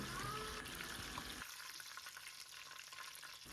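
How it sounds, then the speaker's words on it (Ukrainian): Chicken cutlets fry in hot oil in a small pot, giving a steady, close sizzle and bubbling that continues throughout, then settles slightly quieter partway through, with no talk. "занурила туди курячі котлетки, обсмажила до золотистого кольору"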